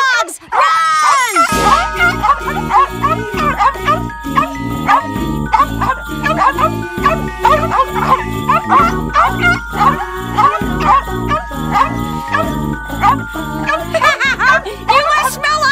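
Guard dogs in an animated Christmas movie barking over a junkyard scene, repeated barks and growls mixed with jingling music and voices.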